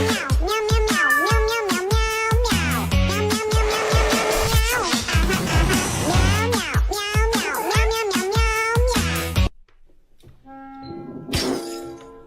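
Two cats meow and yowl again and again in loud, overlapping, drawn-out cries, then fall quiet briefly before one more meow.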